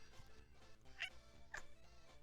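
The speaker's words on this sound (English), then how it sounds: "Sounds like you smoked 20 cigarettes before you let out that meow" Opie the cat lets out a couple of short, raspy, hoarse meows, close and fairly quiet, over a low steady background hum.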